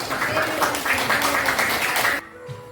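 Classroom applause for a student, a few seconds of steady, moderately loud clapping from a group that stops abruptly.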